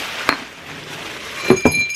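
Glass Christmas decorations clink against each other: a single bright chink, a pause, then two quick ringing clinks close by, with no talk.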